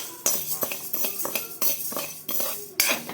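Moong dal roasts in a pan as a utensil stirs it, making rhythmic metallic clinks and scrapes about every half second, close and clear, with no voices.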